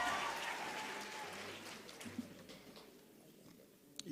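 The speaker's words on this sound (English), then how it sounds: "Let's give him a round of applause." At a university graduation ceremony in Windhoek, the audience claps in applause that starts loud and dense, then gradually thins and fades over a few seconds.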